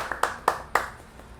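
A few scattered, sharp hand claps from an audience at an agribusiness talk, three or four distinct strikes spaced apart, fading into room tone, with no speech.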